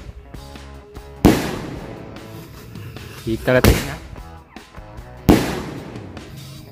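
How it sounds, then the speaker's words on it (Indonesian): Ball-launcher firecrackers (mercon bola pelontar) going off outdoors, three sharp loud bangs spaced a couple of seconds apart with a crackling burst in between, while someone talks briefly. "yang selanjutnya ini kita nyalain mercon bola pelontar"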